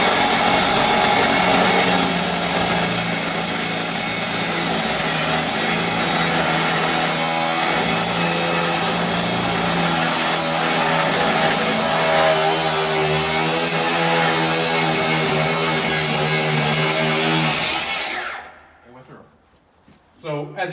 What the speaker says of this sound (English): we're just gonna go in and we're gonna make a cut here